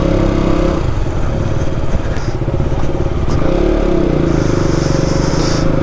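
A motorcycle engine runs loud and close as the bike is wheeled out of parking on a busy outing, a steady rumbling drone with a few rattles and clatters over its continuous roar.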